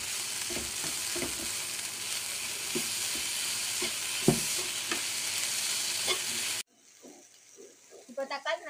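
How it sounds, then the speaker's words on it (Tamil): Ginger garlic paste sautéing in a pan for a vegetarian fish-style kulambu, a steady loud sizzle and fry hiss with scattered stirring clinks, then the frying cuts off and a few faint clatters follow. "இதையும் சேர்த்து நல்லா வதக்கிக்கலாம்."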